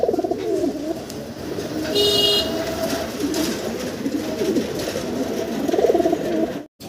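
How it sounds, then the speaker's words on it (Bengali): Black Golla pigeons at a pigeon sale cooing close by, low repeated throaty coos over a steady background hum, with a brief high toot partway through and no talking. "এটা হচ্ছে গোল্লা কবুতর, কালো কালার।"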